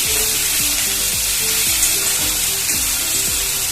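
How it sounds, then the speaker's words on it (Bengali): Onion paste frying in a pan while being stirred, a constant loud sizzle with rhythmic scraping strokes of the spatula across the pan, no voices. "পেঁয়াজ বাটাটা দিয়েও আমি আরো কিছুক্ষণ নেড়ে নেবো যতক্ষণ না পেঁয়াজের কাঁচা গন্ধটা চলে যায়"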